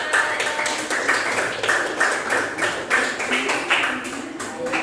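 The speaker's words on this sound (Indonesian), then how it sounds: "Kita beri tepuk tangan untuk kelompok 3." A classroom of students claps for a group presenting, a loud, steady patter of many hands that keeps going for several seconds with faint voices underneath.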